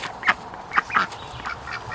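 An injured female Rouen duck gives three short, nasal quacks close by at a steady pace, with a softer call near the end and a low, faint outdoor background.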